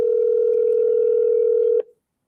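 A steady telephone dial tone holds for nearly two seconds, loud and unbroken, then cuts off abruptly with a brief click, with no talk.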